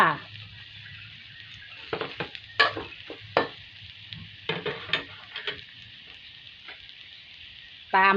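Large eryngii (king oyster) mushrooms drop into a hot pan and are stir-fried, giving a steady sizzle broken by irregular clatters and scrapes of the spatula, with a loud burst at the very end.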